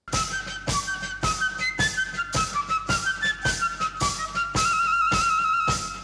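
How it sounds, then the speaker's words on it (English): A militaristic penny whistle flourish from a 1970s UK number-one song rides over a pounding homemade living-room piano and beat, with the shrill whistle line repeating steadily and loudly across regular percussive hits. "a militaristic penny whistle flourish enters to keep attention"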